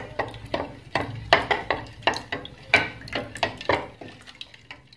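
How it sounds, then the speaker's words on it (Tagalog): Chicken being stirred in a pan while it fries on a home stove, heard as a fast run of close, clattering scrapes and taps of utensil against pan, with soft sizzling underneath and no talk. "Ayan, haluin ko muna."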